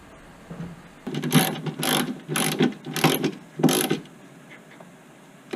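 A hand ratchet snugs down bolts, clicking in five quick bursts of rapid pawl clicks with short pauses between strokes, close and clear against a quiet background.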